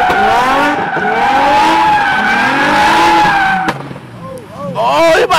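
A Dodge Charger spins out with loud, sustained tire squeal and skidding over about four seconds, followed by engine revving and voices talking over it.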